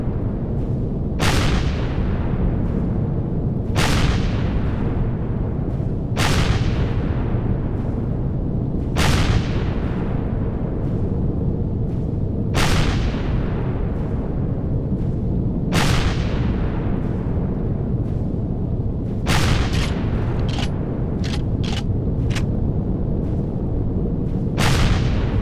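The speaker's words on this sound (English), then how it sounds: "Now this ion cannon." Ion cannon fire in the space-survival game Empyrion, about ten sharp blasts at irregular intervals of two to three seconds, each loud and close over a steady heavy rumble, with a quick cluster of shots near the end.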